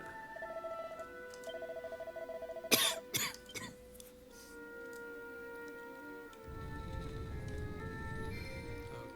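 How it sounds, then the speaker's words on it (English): A few sharp coughs in quick succession, close and loud, over a faint steady electronic tone, followed by a low rumbling background. "Fighting this cough."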